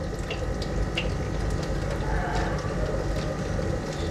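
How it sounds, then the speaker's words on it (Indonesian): Water pours and splashes steadily out of a container holding a channa auranti snakehead fish during tank reconditioning, a continuous gushing wash at close range. "Waduh, airnya keluar"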